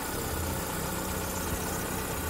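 A 2004 Hyundai Atoz GLS manual idles steadily after a repair, a model known for its idle speed rising and falling, with a constant close-up engine drone and vibration.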